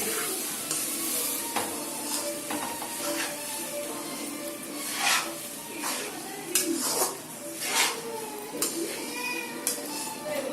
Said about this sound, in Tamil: அதை வந்து இந்த கடாயில் கொட்டிட்டு கிண்ட போகிறோம்